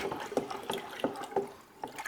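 Water being stirred for an indoor hydroponic pepper setup gives a few soft, close sloshes and light splashes in an uneven rhythm, quiet and alone with no talking.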